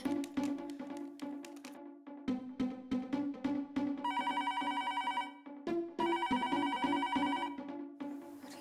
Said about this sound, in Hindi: तू दयाबा को फोन लगा